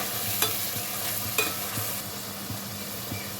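Onion paste with curry leaves and mint frying in a pan for chicken curry, a soft continuous sizzle broken by regular scraping stirs of a spoon, close and with no talk.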